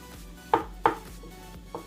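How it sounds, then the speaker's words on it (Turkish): Knife chopping boiled eggs on a cutting board for a lettuce salad: a few sharp, separate strikes, two close together and a softer one after a pause, heard close with no talking. "Şimdi yumurtalarımızı doğrayacağız."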